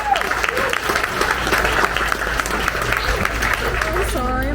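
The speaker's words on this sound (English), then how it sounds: "can you give them a round of applause for their support?" Applause for the sponsors at a 2021 Big BBQ Bash benefit event, a dense, steady round of clapping from the crowd, with a voice talking underneath and a brief high chirping sound near the end.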